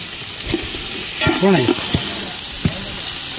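Onions stir-fried in a pan during an outdoor group cooking trip make a loud, constant sizzle with periodic stirring scrapes, and a brief voice rises in the middle.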